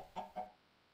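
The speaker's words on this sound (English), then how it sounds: "Although there is a chicken in my bed." A chicken in Minecraft gives two quick soft clucks in succession, faint and close, followed by quiet with no talking.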